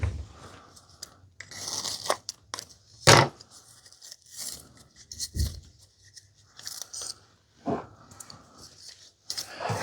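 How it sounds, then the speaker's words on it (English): Scissors snip away long hair wrapped around the brush roll of a Bissell vacuum attachment, giving a series of close, irregular crisp cuts and crunchy tearing sounds with short pauses between them. "And you could cut those hairs off."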